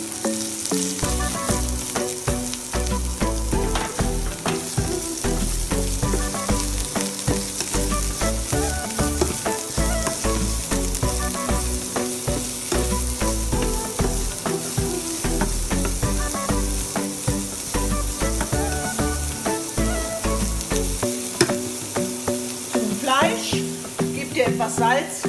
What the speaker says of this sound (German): Zwiebeln, mit dem Knoblauch und dem Ingwer in die Pfanne geben und kurz anbraten